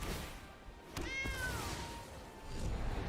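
A single short cat meow rises and falls from a cat token in Magic Arena, fairly faint and alone against quiet background hiss.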